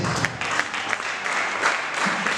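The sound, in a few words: audience applause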